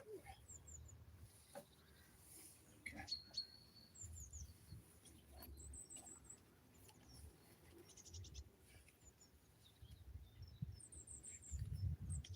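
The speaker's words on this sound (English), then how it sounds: "it is nice listening to all the different birds out here" Several different birds chirp and whistle outdoors at a fishing spot, with short scattered calls from different distances. They are faint and sit above a low rumble of wind.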